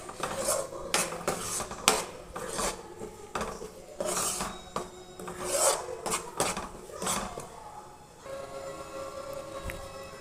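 Curry leaves and roasted spices are stirred in a pan for a Nellore fish curry, giving repeated dry scraping and rasping strokes of a utensil against the pan, close and fairly quiet, with no voices.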